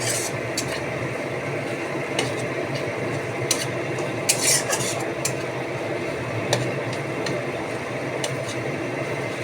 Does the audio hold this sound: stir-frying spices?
yes